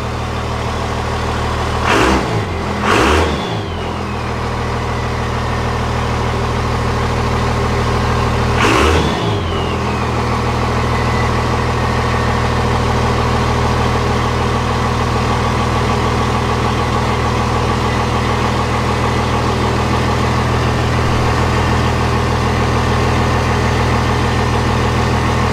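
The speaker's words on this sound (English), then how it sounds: "the truck started right up" A 2nd-generation Cummins diesel pickup idles loud and close with a steady low rumble, broken by a few quick revs early on before settling back to an even idle.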